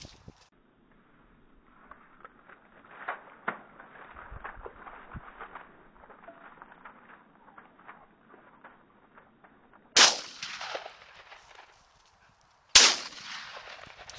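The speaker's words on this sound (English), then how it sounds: "Two more warning shots, Gary." Two sharp shotgun warning shots ring out outdoors on a rough-shooting outing, about three seconds apart. Both follow a quiet stretch of faint rustling and background noise, and each blast has a brief echoing decay.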